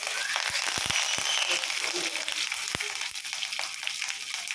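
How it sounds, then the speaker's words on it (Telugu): Crushed cumin seeds and curry leaves fry in a tempering of hot oil, a dense, steady close sizzle with scattered sharp crackles and pops throughout. "జీలకర్ర కూడా ఒక చెంచాడనమాట చక్కగా నలిపాను కరివేపాకు వేగంగా పట్టేస్తుంది"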